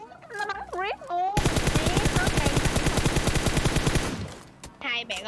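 Gunfire in the PUBG Mobile video game, a loud rapid automatic burst lasting about three seconds, framed by brief voices before and after.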